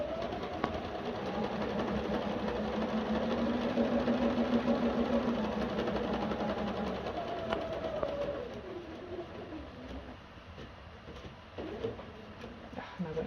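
A sewing machine runs a steady stitching line along a quilt seam, a continuous mechanical whir that speeds and slows, then drops away and leaves quieter handling noise near the end.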